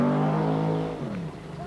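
A 1983 rally car driven fast through the Mt Coot-Tha Quarry special stage, its engine loud and near as revs hold high, then drop sharply as it lifts off and passes, fading into a lower drone.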